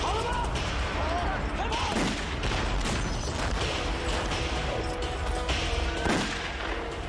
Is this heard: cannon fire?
yes